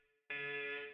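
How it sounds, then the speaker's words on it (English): Alarm going off in a video game, a faint low tone abruptly giving way to a loud, sustained buzzing electronic blare that holds steady to the end, with no speech. "that's the alarm"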